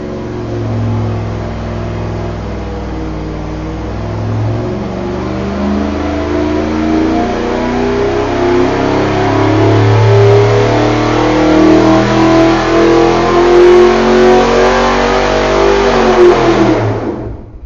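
A 350 small block engine fitted with vintage 292 GM performance heads revs steadily on a dyno, a loud, continuous rising engine roar that holds and climbs for most of the run before cutting off at the end.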